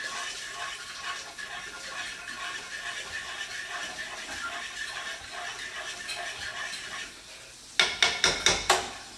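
Pasta being stirred in a pot after adding about a quarter of water, a steady scraping, sloshing texture running continuously, ending with a few sharp metallic clanks of the utensil against the pot.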